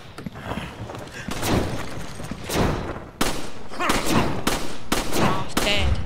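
Enemy gunfire in Resident Evil 5, rapid bursts of shots and thuds in dense volleys, loud and continuous, with a player's voice now and then underneath.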